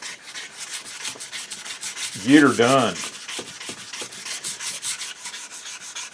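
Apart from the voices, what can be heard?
hand sanding wood with a sanding block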